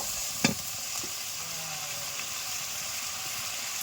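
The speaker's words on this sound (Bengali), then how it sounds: "দুধ দিয়ে দিয়ে একটু কষিয়ে নিলাম।" Spice paste being sautéed with milk in a pan, with a continuous sizzle and hiss, a sharp scrape of stirring near the start and a few lighter stirs after, close and moderately loud, no talk.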